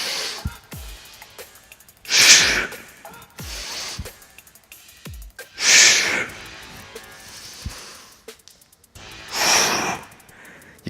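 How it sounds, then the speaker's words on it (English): Deep breaths during barbell thrusters come as three loud, close, breathy exhalations spaced a few seconds apart, with quieter inhales and soft gym clatter in between. "Take a deep breath in."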